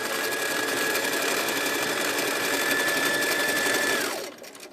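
A sewing machine stitches free-motion doodle loops on felt, a fast continuous whirring hum with a steady motor whine that runs nearly four seconds before slowing and stopping.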